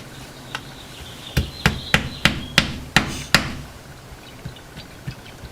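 Hammer blows drive nails into a wooden geoboard, seven sharp close strikes in quick even succession, then a few lighter taps trailing off.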